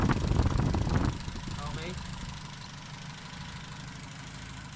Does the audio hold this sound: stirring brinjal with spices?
no